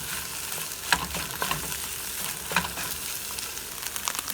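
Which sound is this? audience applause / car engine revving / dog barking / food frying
food frying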